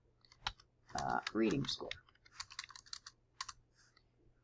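Quick bursts of clicking keys on a computer keyboard while a spreadsheet formula is typed, close and soft, with a person speaking briefly over the first part.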